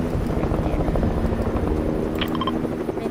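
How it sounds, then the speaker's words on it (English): Helicopter flying in the Fortnite battle royale game, a loud, steady rotor thrum with rhythmic chopping that holds throughout without pause. "Yes, a helicopter."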